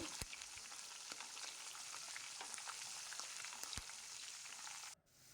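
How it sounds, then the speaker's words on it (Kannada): Crushed garlic and curry leaves fry in hot oil for a grated raw mango pickle tempering, a dense, steady close sizzle with scattered pops that drops off abruptly near the end, with no talking. "ಬೆಳ್ಳುಳ್ಳಿನ ಒಂದೆರಡು ನಿಮಿಷ ಇದನ್ನು ಎಣ್ಣೆಯಲ್ಲಿ ಫ್ರೈ ಮಾಡ್ಕೊಳ್ಬೇಕು"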